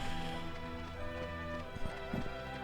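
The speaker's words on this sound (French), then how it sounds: "Et on descend de la montagne à cheval." Horse hooves clop in a steady rhythm as the mount descends a mountain in the video game Kingdom Hearts II, heard under game music and ambience.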